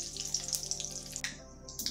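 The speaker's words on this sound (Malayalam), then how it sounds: "കടുക് പൊട്ടി കഴിഞ്ഞിട്ടുണ്ട്" Mustard seeds crackle and pop in hot oil in a heated pan for a Kerala kalan, a fast scatter of small, bright spluttering bursts with no voices.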